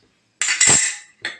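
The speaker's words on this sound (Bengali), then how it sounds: "আর এদিকে আমি ভাতটাকেও একটু নাড়িয়ে নেব।" A metal utensil clinks and scrapes against a cooking pot while rice is stirred, two brief clattering strokes close up in a quiet kitchen.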